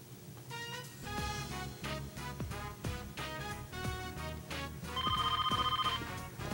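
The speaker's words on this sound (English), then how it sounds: "The phone was ringing." A telephone rings repeatedly in the video game Persona 4, a bright trilling ring layered over upbeat game music with a steady beat; the ringing grows clearest and loudest near the end, and no one speaks.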